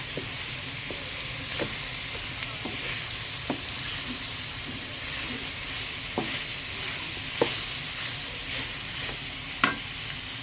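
Vegetables sizzle loudly and continuously as they are stir-fried in a pan, a dense close hiss broken by scattered clicks and taps from stirring.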